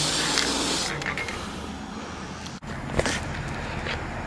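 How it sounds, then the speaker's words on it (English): A nearly empty, worn-out spray paint can spitting and sputtering out a final coat on Ninja 400 motorcycle parts, a close hissing spray with uneven bursts and a brief pause partway through. "This can is clapped out. It's all splattering and junk."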